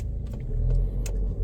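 A car rumbles low and steady from inside while it turns left during a driving lesson, with a few faint clicks over the engine and no talk.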